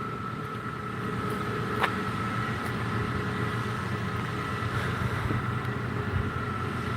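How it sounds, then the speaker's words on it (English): Machinery at a nearby water treatment plant gives off a steady low mechanical drone that carries on unbroken and fairly quiet outdoors, with a faint tonal hum. "If you hear that noise behind me, there's like a water treatment plant."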